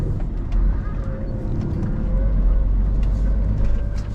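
An empty HGV truck pulling a skeleton trailer drives along a road through a roundabout in Cumbria, giving a steady, loud, close low engine and road rumble with no talk.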